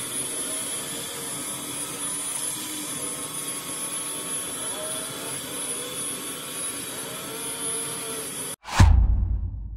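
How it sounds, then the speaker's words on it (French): A budget Tozima W2 window cleaning robot runs on glass with a loud, steady whirring suction drone that holds for most of the stretch, then cuts off with a sudden close thump. "On ne peut pas dire que ce robot nettoyeur de vitres soit très silencieux."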